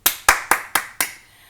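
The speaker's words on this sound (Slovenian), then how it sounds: "aplavz" Five sharp, evenly spaced hand claps close by at a festival closing concert, each crisp slap ringing briefly before the next, the last one fading into quiet.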